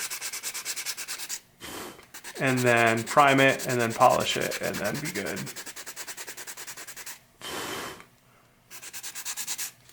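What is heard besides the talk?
hand sanding spot putty on car part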